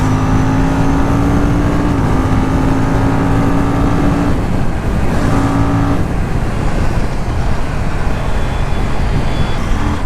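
An Aprilia Tuono 457 motorcycle engine drones loudly and steadily on the road, its pitch holding, dipping briefly, then holding again, with heavy wind rush throughout.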